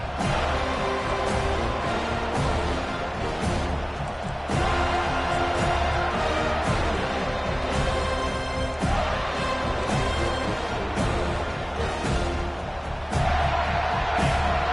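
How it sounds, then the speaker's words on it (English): A home crowd roaring at a Wisconsin versus FSU college football game, a loud continuous wash of cheering and noise that swells in waves through the whole stretch. "Here comes this home crowd as the defense tries to get off the field on 3rd down"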